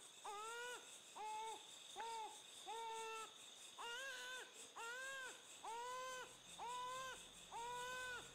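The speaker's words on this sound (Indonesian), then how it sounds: "Ini suara tangisan bayi semakin kencang." A baby cries in a rhythmic series of drawn-out wails, about one per second, each steady and fairly even in loudness, with no talking.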